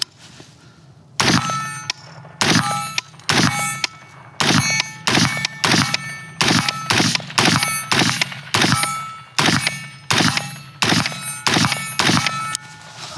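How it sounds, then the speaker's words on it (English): Smith and Wesson Sport III rifle shots ringing off steel targets, a rapid string of around seventeen sharp loud cracks, each followed by a metallic clang, fired in quick uneven succession. "So let's put out the couple shots through this thing and just see how it goes"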